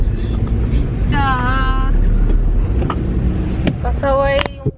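A truck engine runs close by with a low, steady rumble, while people talk over it and short tonal squeals come and go.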